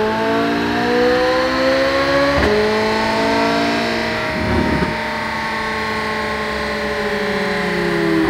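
A stock exhaust on a C8 Corvette Z07 sports car drones loudly nearby, its exhaust note rising and falling through smooth revs with a steady throaty rumble and no speech.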